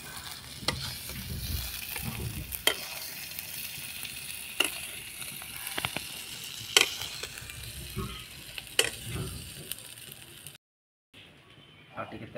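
Oil fries in a pan with a steady close sizzle, broken by sharp clinks and scrapes of stirring, and the sound cuts out briefly near the end.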